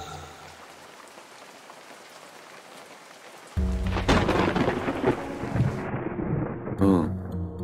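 A loud thunder crash from an enemy's lightning attack in the Ocean's Heart game bursts in after a quiet stretch and rumbles on with layered crackling, then a second strike cracks near the end.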